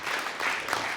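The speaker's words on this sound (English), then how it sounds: "Round of applause for James." An audience at an engineering panel evening on space-based solar power gives a short burst of dense, even applause lasting about a second, with no voices over it.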